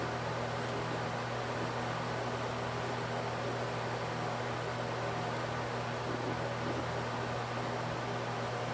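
An electric fan runs on its highest setting, a steady, even whoosh of airflow with a constant low hum underneath, unbroken and fairly close, with no talk.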